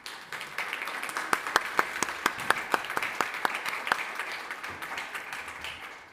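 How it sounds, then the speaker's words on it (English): Audience applauds panelists at a digital diplomacy conference panel on AI and geopolitics, a modest round of clapping with a few sharp, distinct claps standing out, building then fading over about six seconds. "I think a short round of applause is..."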